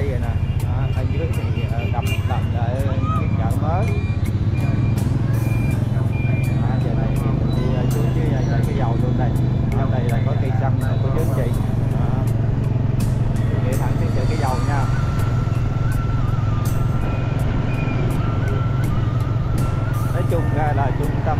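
Busy traffic around the town market at Cái Dầu in An Giang, Vietnam, a steady dense rumble of motorbikes and cars with horn toots throughout and a voice talking over it the whole time.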